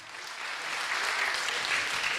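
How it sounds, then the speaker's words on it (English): Audience applause at a startup pitch competition on stage, a steady dense wash of many hands clapping that swells slightly and holds for a couple of seconds without voices. "Big applause, Etienne."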